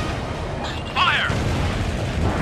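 A SAM site blowing up in Ace Combat Infinity: a booming explosion bursts in around the one-second mark with a short crackling, whistling flourish, then a sustained rumble over steady background noise, with no talk.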